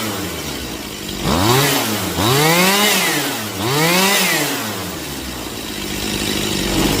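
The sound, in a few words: Stihl chainsaw revving during throttle response check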